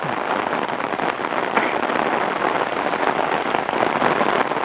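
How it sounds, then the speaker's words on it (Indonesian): Steady rain pattering on an umbrella at a highway construction site, a dense, continuous hiss of drops held close and loud throughout, with no voices. "Langsung turun hujan ya"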